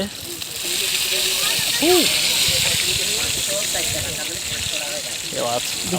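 Kalachanda fish fry on a seaside barbecue with a constant loud hissing sizzle, while people talk nearby and sound pleased.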